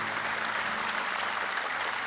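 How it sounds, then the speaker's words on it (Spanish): A crowd applauds steadily, a dense wash of clapping that holds at an even level throughout, with no voices standing out. "A ver, denle un aplauso"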